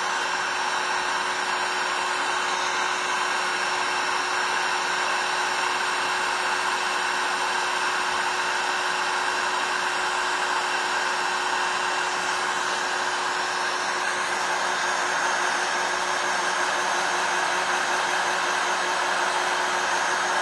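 Heat gun or hair dryer warming an airsoft gun part during cleaning, a loud continuous steady whooshing whine with a constant tone, unbroken for the whole stretch.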